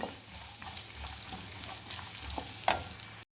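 Coconut frying in ghee in a pan, a close steady hiss and crackle with a few spoon scrapes and a soft clink, cutting off abruptly at the end, with no talk.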